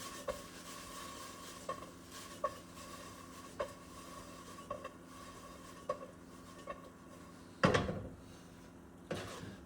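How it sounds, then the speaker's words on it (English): Chicken fried rice tossed in a pan with sesame oil: a quiet sizzle under regular sharp clacks of utensil on pan about every second, then two louder scraping tosses near the end. "Add a bit of sesame oil. Give it another toss."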